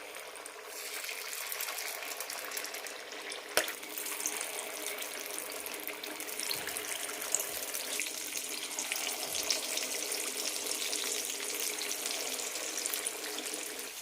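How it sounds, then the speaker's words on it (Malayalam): Unniyappam batter sizzles in hot oil in a pan, a steady bright frying hiss that holds for the whole stretch with no one speaking. "എണ്ണ ചൂടായിട്ടുണ്ട്. മാവ് ഒഴിക്കാം."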